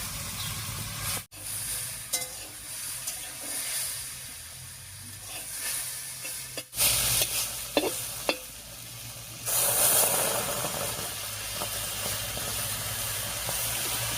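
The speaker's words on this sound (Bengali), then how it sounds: "মশলাটা তেলের সঙ্গে একটু কষিয়ে নিয়েছি" Taro stolons are stir-fried with ground spice paste in mustard oil, making a continuous sizzle with scraping stirs and louder hissing bursts midway and near the end.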